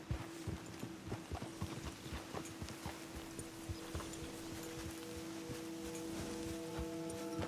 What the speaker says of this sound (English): Let's leave the horses off the road to the right here.